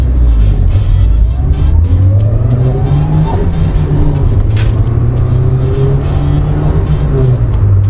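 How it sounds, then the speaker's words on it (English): Daihatsu Charade pulling away from a traffic light at full throttle, a loud close engine roar rising in pitch through the gears, with brief shifts and a short tire noise midway. "see how fast this car can pull away"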